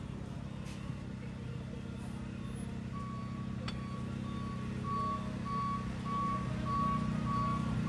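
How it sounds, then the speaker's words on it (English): A big truck reverses on a busy New York street, its steady reversing beeps pulsing in a regular rhythm over a constant low engine rumble and city noise. "This big ass truck is right here."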